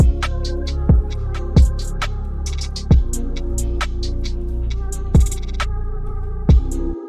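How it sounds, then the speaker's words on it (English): An R&B beat plays with most drums cut away, leaving a deep throbbing sub bass, dense sustained pads and bright sparse percussive accents. The sound is steady and loud throughout. "I cut all the drums but the sub after the second snare hits"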